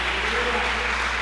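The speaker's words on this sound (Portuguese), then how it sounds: "você pode aplaudir ao Senhor por isso?" A steady wash of applause from a church congregation at a worship service, dense and continuous through the whole moment.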